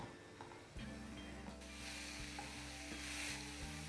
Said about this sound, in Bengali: এটাকে ভালো করে চালিয়ে নেব আর একটু এটাকে কষিয়ে নিতে হবে, যতক্ষণ না এর গা থেকে একটু তেল ছেড়ে যায়।